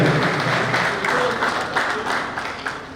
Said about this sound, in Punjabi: ਤਾੜੀਆਂ ਫਿਰ ਮਾਰ ਦੇ